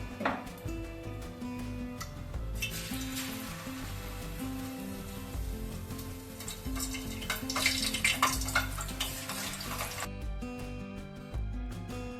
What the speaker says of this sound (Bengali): চিকেনগুলো লাল করে ভাজা হয়ে গেছে